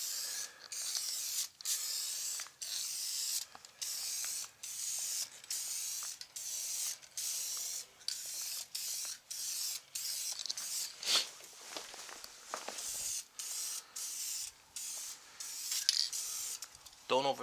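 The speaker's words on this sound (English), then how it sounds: "Don't overspray it." Tint sprayed onto car tail lights in repeated short hissing bursts from an aerosol can, steady and close, separated by brief pauses, with a louder rubbing stretch midway.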